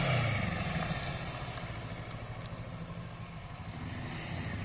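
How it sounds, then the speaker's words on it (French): Motorcycle braking while leaning into a turn during a braking-in-a-curve riding exercise, its engine note dropping steadily in a close, continuous drone with no speech. "Plus je freine, plus elle tourne court."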